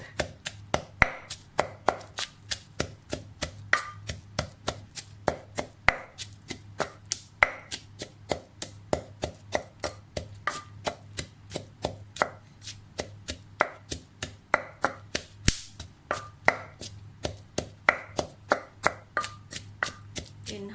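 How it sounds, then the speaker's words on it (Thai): Salt and ingredients for Thai jaew pla ra dipping sauce pounded in a mortar, a steady rapid series of sharp thuds repeating for twenty seconds at close range. "ก็ตำให้ละเอียดเลยค่ะ"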